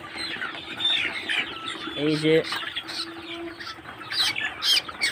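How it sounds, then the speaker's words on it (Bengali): A chicken with a cold makes hoarse clucks and a short harsh squawk amid other birds and rustling, with a person speaking briefly nearby. "একে ঠান্ডা লেগেছে, আওয়াজ শুনে বুঝতে পারছেন আশা করি।"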